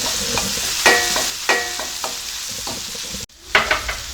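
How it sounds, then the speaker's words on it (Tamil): Tomatoes and turmeric sizzle in a hot pan while a utensil stirs and scrapes in a few sharp strokes, close and fairly loud, with no talking. "இப்போ தக்காளி சேர்த்துக்கலாம் இது கூட எடுத்து வச்சுருக்க மஞ்சத்தூளை சேர்த்து நல்லா வதக்கிக்கலாம்"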